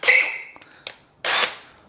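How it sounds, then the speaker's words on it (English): Power drill boring out a damaged thread in aluminium with a piece of steel still inside, heard as a few short, close bursts of whirring and grinding separated by brief pauses. "So we want to drill this nice and square."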